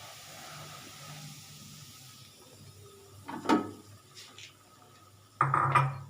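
Semolina tipped into hot refined oil in a wok, a soft steady hiss of roasting with two brief clattery bursts of utensil against the pan, fairly quiet and close, no talking.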